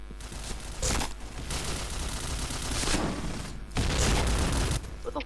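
Dense gunfire from the PointBlank video game, a continuous rattling fusillade with heavier surges around one second and again near four seconds, loud and steady throughout.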